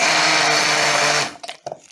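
A blender whirs loudly as it purees chicken gizzard pâté with broth, a steady high motor drone that cuts off abruptly, followed by a few soft knocks and clatters.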